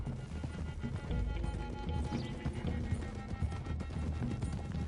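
Horses galloping together in Red Dead Redemption 2, rapid overlapping hoofbeats pounding close and steady, with occasional snorts under a busy, rolling rumble of movement.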